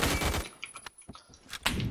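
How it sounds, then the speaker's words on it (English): Gun in Roblox Murder Mystery 2 firing a rapid volley of sharp shots, then a few scattered single cracks and a final burst, loud and close. "You can see the bullets falling. Shoot off in the sky."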